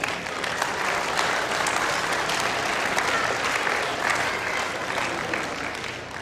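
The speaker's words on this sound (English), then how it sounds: "Give him a round of applause." Steady applause from a school audience greeting a fourth-grade volunteer called to the front, dense and continuous for several seconds with a busy crowd texture and no clear speech.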